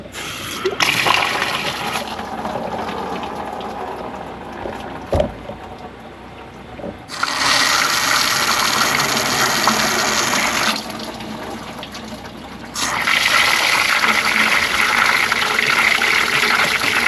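Water flushing out of a Ram 2500 truck's heater core and splashing into a bucket below, a steady rushing pour that surges louder in bursts, with no talking.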